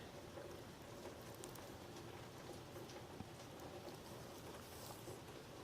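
Rain falls in a steady, faint, even patter that stays constant throughout, soft and somewhat distant with no other sound rising above it.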